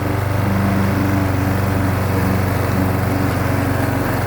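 A push lawn mower fitted with a test muffler mulches grass and bogs down a little under load. The engine drones loud and close, a steady low buzzing that runs unbroken the whole time.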